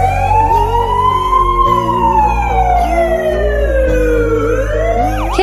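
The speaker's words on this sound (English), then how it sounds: "Teacher quickly called an ambulance and took Kitten to the hospital." An ambulance siren from a played AI-generated video, loud and continuous, with a long gliding wail and a warbling tone rising and falling over a rumbling vehicle drone, no voices.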